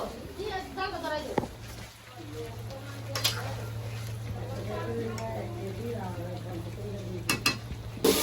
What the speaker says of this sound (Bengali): মাংস কষানো হচ্ছে।